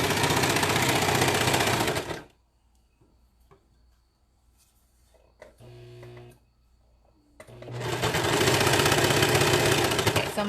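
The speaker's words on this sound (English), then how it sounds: "You definitely don't want to sew over pins when you're using a serger." Serger sewing machine stitching fabric for a slouchy beanie: a loud, fast, steady mechanical whirr for about two seconds, a quiet pause with small handling sounds, then the whirring run starts again and continues to the end.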